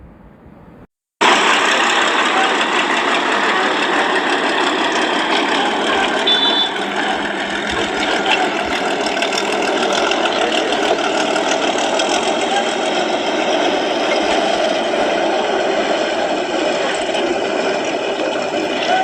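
A vehicle engine runs steadily and loudly throughout a driving practice session, a dense continuous drone that starts abruptly after a quiet second and holds nearly constant to the end.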